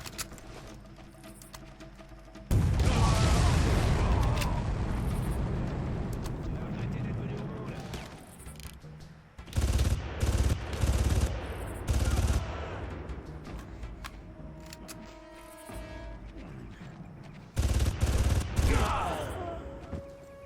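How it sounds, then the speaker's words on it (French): Rifle gunfire in the video game Far Cry comes in loud, dense bursts that crackle and boom, broken by quieter gaps of ambient game sound and a few softer impacts. "Le fusil là est plus puissant, hein, mais il a un de ses reculs."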